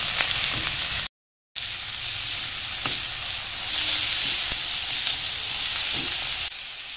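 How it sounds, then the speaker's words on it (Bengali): Prawns with salt and turmeric stir-fried in a pan for a taro stolon dish: a loud, continuous close sizzle with stirring scrapes, briefly cut off by a moment of silence. "এর মধ্যে অল্প একটু লবণ দিয়ে দেবো আর একটু হলুদ দিয়ে দেবো, দিয়ে এটাকে নাড়াচাড়া করে ভেজে নেব।"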